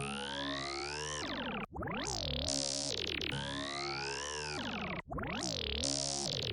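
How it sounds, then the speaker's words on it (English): Glitchy synth processed with the Effectrix DB Demo preset, repeating in a stuttering pattern of sustained chords alternating with swooping, pitch-bending chopped segments, with two short dropouts, loud with no voices. "because I used this Effectrix preset called DB Demo,"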